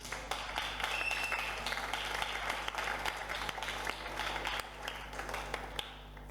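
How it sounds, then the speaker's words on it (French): A church congregation applauds throughout, a dense steady wash of many hands clapping at moderate volume with no break. "Acclamons pour les gens qui ont cette foi-là"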